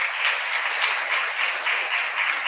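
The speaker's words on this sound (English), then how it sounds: "Let's give a round of applause right there." Audience applause at a Connecticut Kid Governor inauguration day news conference, a steady, even wash of many hands clapping at moderate distance, sustained without a break.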